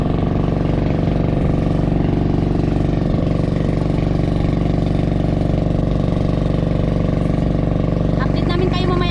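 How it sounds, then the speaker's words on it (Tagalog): A faulty fishing boat engine drones steadily and close by, a constant mid-pitched mechanical hum with no pause, while people talk over it. "Hindi na naayusan yung makina namin."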